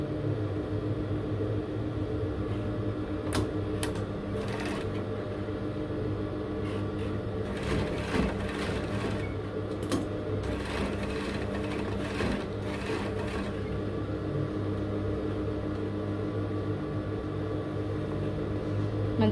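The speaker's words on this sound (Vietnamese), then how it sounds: "Các bạn sẽ đặt cái phần tay vào đây để chúng ta may tay áo." A sewing machine stitching the sleeve onto a T-shirt runs as a steady mechanical hum throughout, with a few brief bursts of faster stitching rising above the drone.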